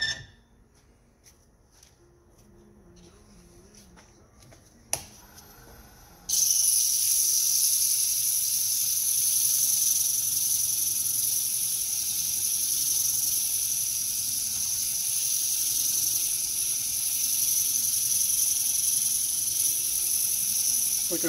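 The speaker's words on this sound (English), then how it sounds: "So we'll just take the sandpaper and make sure it's nice and clean again." Steady, loud abrasive hiss of sandpaper rubbing a wooden salad bowl made from 1x4 boards, starting abruptly after a few seconds of quiet scraping and continuing without pause to the end.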